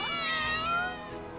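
Cats in the video game Final Fantasy VII Remake meow loudly and close up, a single drawn-out wavering cry that slides downward and fades, with no talk over it.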